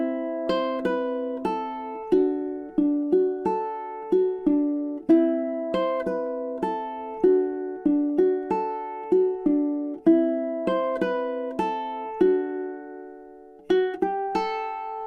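Solo ukulele plays measures 15 to 18 of a piece, a steady stream of plucked notes and ringing chords, close and clear with no talk.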